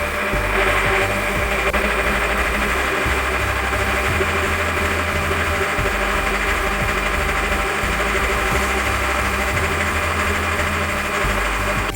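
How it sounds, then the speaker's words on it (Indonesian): A blender whirs loud and steady without pause, pureeing noni leaves together with aloe vera into a plant-based pesticide mix. "Blender sampai halus."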